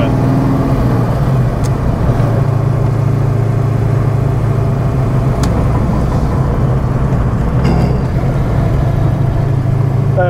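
A Fox Body Mustang with a 1000 hp engine and Holley EFI drives along, its engine giving a loud, steady low rumble from inside the car, with small shifts in tone and no voices.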